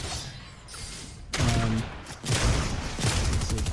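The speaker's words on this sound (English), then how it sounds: "So Jack takes some shots" Rapid bursts of gunfire in the Fortnite video game, with loud volleys starting and stopping in clusters over a steady low background, close and with no voices.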